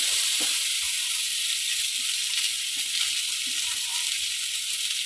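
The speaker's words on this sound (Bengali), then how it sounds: "এবার পেঁয়াজ রসুনগুলো ভাজা হয়ে গেছে এবার দিয়ে দেবো শাকটা" Leafy dhundul greens tipped into hot oil with fried onion and garlic give a steady, even hiss of sizzling that carries through the whole stretch at moderate loudness, with no one speaking.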